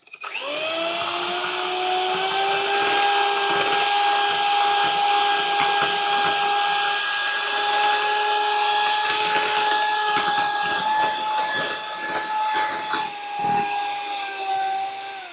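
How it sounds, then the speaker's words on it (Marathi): An electric mixer whips cream with spoonfuls of caramel sauce folded in for a butterscotch cake, a steady loud whirring hum with beaters scraping the bowl, running continuously and close. "आता परत एकदा ह्याला आपण व्हिप करतोय"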